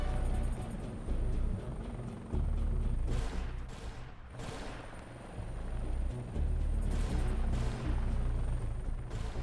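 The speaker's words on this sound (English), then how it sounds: "and that helicopter's got to get out there." A helicopter flies in the Global Outbreak Doomsday Edition video game, a steady rotor roar under bursts of gunfire and explosions, with no talking.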